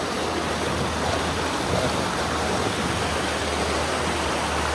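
A swift river current roars in a steady, dense rush at a crossing where the bridge has collapsed. The water is close and loud, with no other sound above it.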